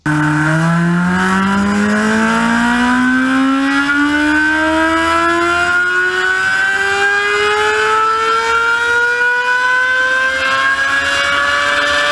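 A Mazda 787B four-rotor engine on a dyno revs to about 9,000 RPM, its loud, raspy tone climbing steadily and continuously, with no talk over it.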